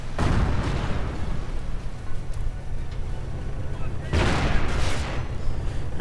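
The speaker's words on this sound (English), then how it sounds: "Tiger coming under heavy fire." A Tiger tank in a World War II strategy video game comes under heavy fire, with dense booming artillery and gunfire in two heavy bursts, while a commentator talks over the battle.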